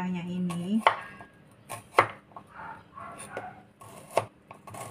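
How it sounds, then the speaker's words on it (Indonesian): Shallots chopped with a knife on a cutting board: a few sharp, separate chops spaced about a second apart, close and fairly clear over a quiet kitchen background. "Saya mau potong-potong dulu bawang merahnya ini."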